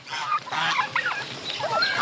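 Several geese honk repeatedly and overlapping, nasal calls close by, continuing for a couple of seconds.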